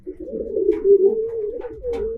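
Racing pigeons kept in a loft, giving a close, low, throaty cooing with a few rolling pulses in quick succession, alone without talk.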